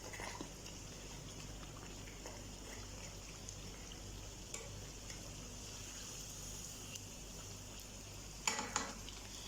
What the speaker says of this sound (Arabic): سامعين الصوت وهي في الزيت؟